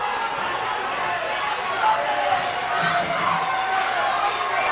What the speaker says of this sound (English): Oh, you hear the roar of the crowd.